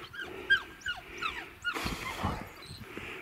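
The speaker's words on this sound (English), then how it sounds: "And these dogs are standing in it." Dogs at a wild campsite in the Lake District whimper and yip in short, close, high-pitched cries, followed by a brief burst of scuffling and thumping as they move about nearby.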